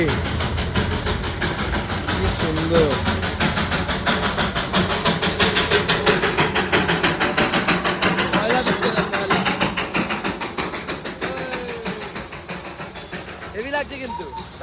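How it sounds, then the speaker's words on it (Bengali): The Darjeeling toy train approaches on the mountain line near Batasia Loop, its engine chugging and rumbling in a steady rhythm with wheel and carriage clatter, while a person talks over it. "দেখো কি সুন্দর আসছে ট্রেনটা"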